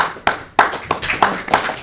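A handful of people clap at a sustainability committee meeting, a short, sparse run of about six distinct, fairly close claps with gaps between them.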